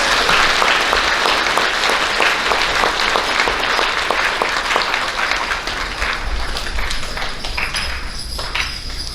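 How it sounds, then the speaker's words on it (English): Steady, dense applause from a large crowd at an elementary school awards ceremony, sustained throughout and tapering slightly toward the end, with no voices over it. "Please give a round of applause for these third grade students."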